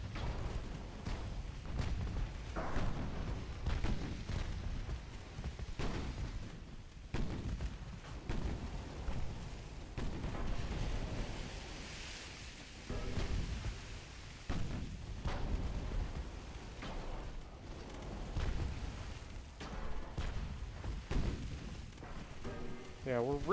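Naval guns in Ultimate Admiral Dreadnoughts fire AP and SAP shells, heavy booming reports and thuds repeating irregularly over a rumbling background, with a voice speaking at times.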